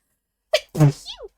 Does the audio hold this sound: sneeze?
yes